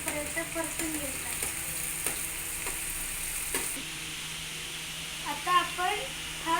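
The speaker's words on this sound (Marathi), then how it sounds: "आपण हा जो पातळ बारीक कांदा चिरलेला आहे तो आपण आता ह्याच्यामध्ये टाकून हा चांगला गुलाबी रंग येईपर्यंत परतून घ्यायचा." Thinly sliced onion frying in a pan, a soft continuous sizzle with intermittent scraping stirs and a few sharp clinks, while a voice speaks quietly over it.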